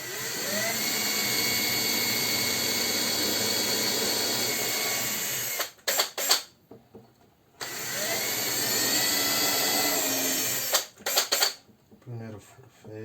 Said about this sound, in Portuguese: Vamos lá, faz um pouquinho, limpa a broca.